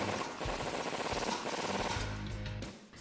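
A 21 mm socket and wrench tighten a bolt during a suspension lift install on a 2019-2021 RAM 1500, producing quiet, rapid ratcheting clicks in short runs with no talk.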